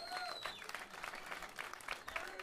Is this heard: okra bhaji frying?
no